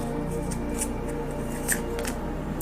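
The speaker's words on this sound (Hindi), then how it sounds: "और भी कार्ड्स लेते हैं।" Tarot cards are drawn from a deck, giving soft papery shuffles and a few crisp card snaps at close range over a low steady hum, with no voice.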